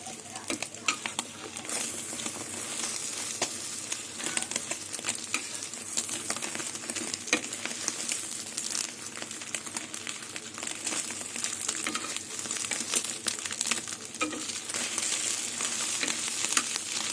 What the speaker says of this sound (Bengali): এইভাবে আমি সব ডিমগুলো ভেজে নেবো